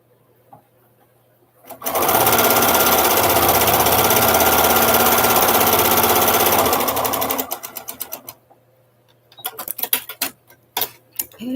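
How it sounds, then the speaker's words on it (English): A sewing machine stitches sashing onto a quilt block in one steady, loud whirring run of about five seconds that slows and stops. Short bursts of stitching and handling clicks follow in quiet surroundings. "going to sew the sashing on the left side of the next block."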